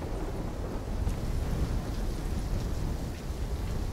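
Thunderstorm with rain and wind in the Call of Duty Black Ops 3 video game: a steady, broad roar of rain and gusting wind over a low rumbling undertone, continuous and fairly subdued.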